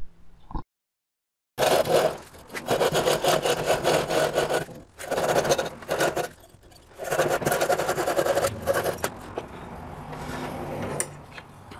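A hand rasp files the wooden body of a gourd fiddle in rapid back-and-forth strokes, rough and close, in bursts separated by short pauses.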